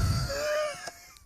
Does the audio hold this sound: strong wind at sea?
no